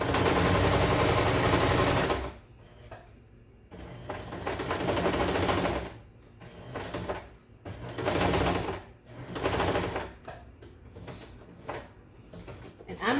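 A hand-cranked sewing machine stitches a flower pillow from a kit, running in loud, rapid mechanical bursts separated by short pauses, close up.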